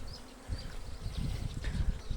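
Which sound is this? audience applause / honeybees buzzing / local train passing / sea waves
honeybees buzzing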